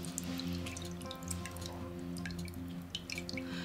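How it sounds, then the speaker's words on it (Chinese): A glass bottle of raisins soaking in water for homemade natural yeast is shaken, producing close, faint sloshing and dripping with small liquid plinks, no talking. "然后你可以摇晃一下瓶身"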